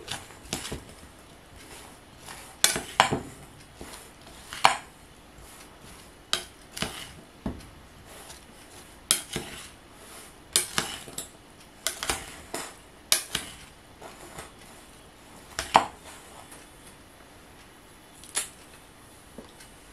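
Small pasta salad being tossed in a bowl, heard as scattered, irregular clinks and taps of a utensil against the dish over a quiet background, with no speech.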